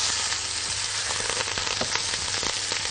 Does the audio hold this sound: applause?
no